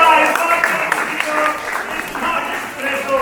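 Audience applause at a quiz competition grand finale greets a correct answer, a dense burst of clapping from a crowd filling the whole short stretch at fairly high volume.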